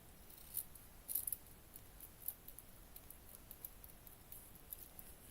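Small scissors snip the corner of a miniature cat cafe garden room box, a series of faint, sharp, close clicks spaced irregularly over quiet background, with one quick double snip.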